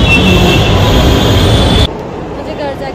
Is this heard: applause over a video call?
no